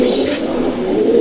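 Malbai/Panjabi breed pigeons coo inside a pigeon loft, a low, throaty, continuous murmur close by with no talking.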